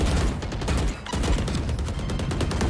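Dense, continuous gunfire from the tactical shooter Valorant, with rapid repeated shots and bursts layered into a loud, busy fight over nearly three seconds.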